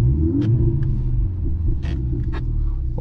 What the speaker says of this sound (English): I will be putting this car into Sport Plus, holding one pedal and starting it up